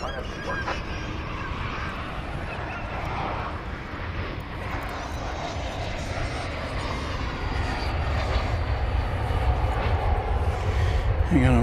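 A jet airliner takes off from runway 18 Left at DFW Airport, a broad roaring engine rumble that builds steadily louder, with faint background chatter.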